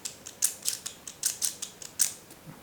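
A quiet series of small, dry mechanical clicks and scratchy ticks, irregularly spaced, as a pen tip is extended; no talking.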